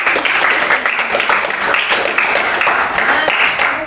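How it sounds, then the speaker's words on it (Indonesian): A class applauding a student in a history lesson on the spread of Islam in Indonesia, with steady, dense clapping from a group close by, voices faintly audible underneath. "Tepuk tangan buat kamu."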